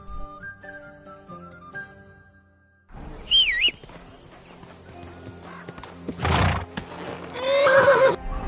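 In the video game Kingdom Come, a horse whinnies sharply after a short musical passage, with hooves clip-clopping and stamping nearby, then gives another neigh toward the end.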